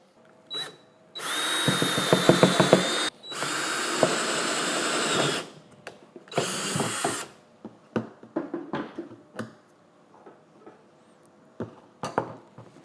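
A power drill whines in three bursts of drilling, separated by pauses, followed by a series of short clinks and knocks.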